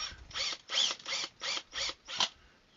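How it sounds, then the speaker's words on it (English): A knob screw is turned into the back of a beehive with a series of about six short, rhythmic ratcheting clicks and scrapes, close and moderately loud, spaced roughly every third of a second. "You have two knob screws. Just screw it in the back."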